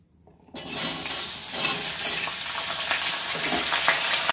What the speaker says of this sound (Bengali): এবার আমি ভেজে নেব এই পুঁইশাক ডাঁটাটি।